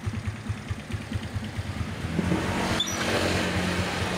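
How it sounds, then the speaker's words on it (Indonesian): A 2010 Suzuki Skydrive scooter engine idles close by on its side stand with a steady low putter, then turns rougher and a little louder partway through. "Di standar samping turun dia nggak mati, masih nyala mesinnya."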